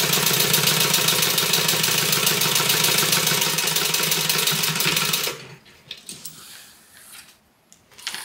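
A sewing machine stitches a bag seam, a loud, dense, steady mechanical whir up close for about five seconds, then stops, leaving faint handling clicks and rustles.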